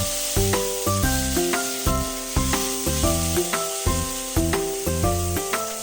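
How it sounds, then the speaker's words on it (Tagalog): Garlic, onion and tomato sauté in a pan for ginataang gulay, giving a steady sizzle under prominent rhythmic background music. "ilagay ang bawang, sibuyas at kamatis at gisahin"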